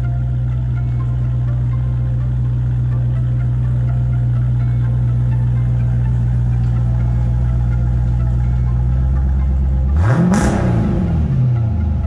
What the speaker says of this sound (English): Obviously, I had to rev it, obviously.